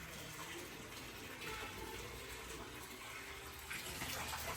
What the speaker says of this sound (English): They left the water running.